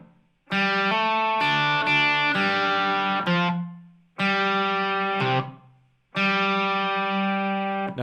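Distorted electric guitar plays the opening riff of CSNY's "Ohio" in three short phrases of struck, ringing notes separated by brief silences, close and clear with no voices.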